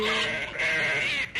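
A voice imitates a sheep's bleat during a rendition of the Old MacDonald farm song, a single wavering, nasal baa held for about a second, close and clear with no talk over it.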